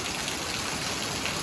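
Dense, steady tropical storm rain hisses and patters across everything, a continuous wash of water with no pauses and no voices.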